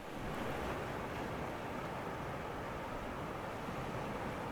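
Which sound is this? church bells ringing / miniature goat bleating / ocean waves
ocean waves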